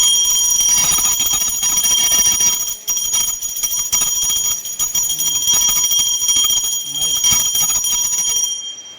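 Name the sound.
bell rung during Nag Panchami puja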